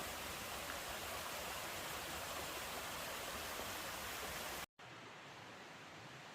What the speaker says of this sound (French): Et le petit ruisseau qui continue là.